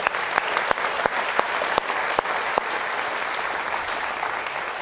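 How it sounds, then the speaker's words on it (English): Audience applause at a Georgetown Law School event featuring Chief Justice Roberts, a brief burst of dense clapping with a few sharp claps standing out early, then settling into an even patter. "Round of applause for Jane, please."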